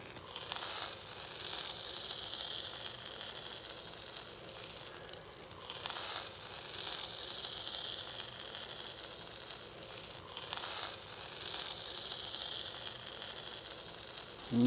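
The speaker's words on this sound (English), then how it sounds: "We just seared that fat cap off, looking really nice." A beef roast's fat cap sears on a hot grill brushed with Wagyu beef tallow, giving a steady hissing sizzle that swells and fades in long waves, with brief louder bursts between quieter stretches.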